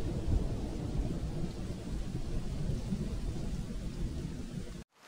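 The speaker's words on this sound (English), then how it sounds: "Thunders and wind are a sign of a beautiful change that is going to happen." A thunderstorm rumbles with deep rolling thunder over steady heavy rain and wind, loud and continuous throughout before cutting off abruptly at the end.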